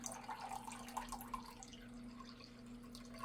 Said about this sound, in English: let's get another can of the V8 and let's get us up to our 10 ounces.